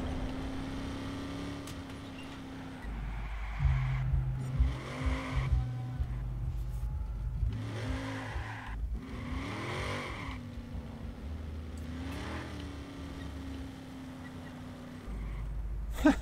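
Video game car driving with engine revving and rising, sweeping engine tones, a few tire squeals, and a continuous loud drone throughout.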